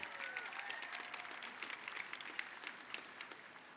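A graduation commencement crowd gives sustained applause and cheers after a national anthem, dense steady clapping with scattered whoops, moderately distant and filling the whole stretch.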